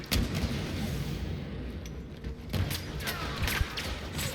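Explosions in the Star Wars Battlefront video game, with heavy booming blasts bursting over a constant rumble of battle noise and a sharp, loud hit near the end.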